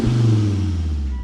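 A Volvo S60R five-cylinder engine fires up, giving a brief, loud low rumble that settles quickly into a steady idle.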